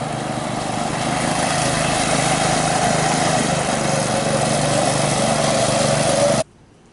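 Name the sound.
go-kart engine running while being ridden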